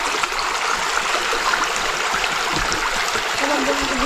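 A stream flows steadily and continuously, its broad rushing, trickling water filling the scene from start to finish with no break, while a voice speaks faintly now and then beneath it.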